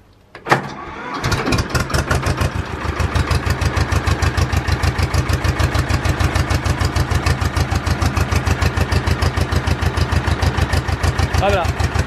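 A tractor engine, a Ursus C330 or C328, cranks and fires up, then settles into a steady, rapid chugging idle that runs loud and close throughout.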